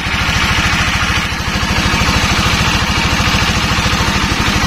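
Honda CBR 150 motorcycle engine idling, a loud, close, steady rapid thumping pulse that holds even throughout with no talk.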